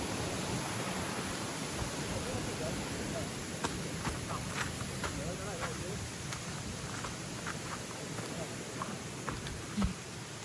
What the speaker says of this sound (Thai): น้ำตกสวยจัง